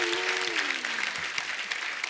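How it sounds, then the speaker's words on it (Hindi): Studio audience on a Hindi comedy talk show, The Kapil Sharma Show, breaking into steady, dense applause that holds at an even level for a couple of seconds, with a faint tone sliding down underneath. "जोरदार ताली हो जाए"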